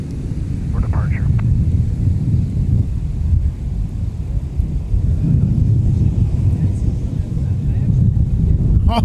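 A heavy Delta jet departs MSP airport and turns right into the clouds, giving a steady, broad roaring rumble that holds throughout, with faint voices underneath.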